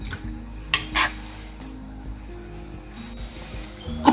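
Mango pieces with water and salt being stirred in a metal pot, giving a few clinks and scrapes of a spoon against the pot amid faint kitchen background, with no voices.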